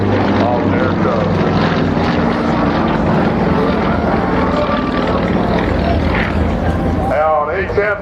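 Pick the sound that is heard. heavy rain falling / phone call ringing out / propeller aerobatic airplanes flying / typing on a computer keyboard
propeller aerobatic airplanes flying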